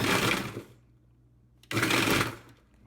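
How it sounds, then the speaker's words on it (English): A blender pulses thawed frozen bananas with the lid covered, giving two short, loud whirring bursts separated by about a second of near silence. "Now that it's thawed enough, I'm going to pulse it at intervals"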